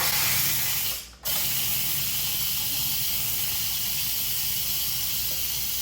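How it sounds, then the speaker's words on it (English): Steam hissing steadily and loudly from an Instant Pot during a quick pressure release, with a brief dip just after the start before the rushing hiss resumes at full strength. "Okay, so our timer just went off on the Instant Pot. I'm gonna give us a quick release."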